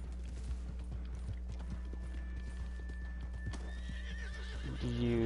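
A horse in the video game Red Dead Redemption 2 clip-clops along in a steady rhythm of hoofbeats, then lets out a whinny at the end; the sound is fairly faint overall.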